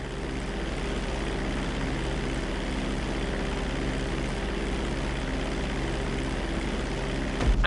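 Propeller airplane in flight in GTA 5, a steady droning engine hum held at an even level throughout, close and continuous, swelling slightly at the very end.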